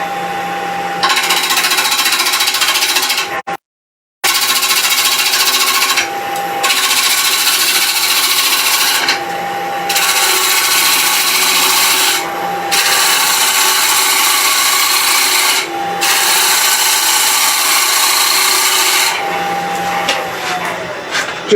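A wood lathe hums steadily while a tool cuts a toffee dish, making repeated loud rushing, scraping passes with short gaps between them.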